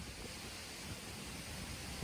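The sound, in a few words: breeze blowing through a valley by a waterfall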